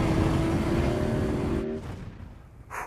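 A motorcycle engine at wide open throttle on a race track roars loudly and steadily for over a second, then the tone drops away into a fading rumble with wind noise.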